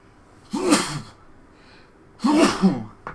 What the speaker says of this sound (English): I knew that sneeze was coming.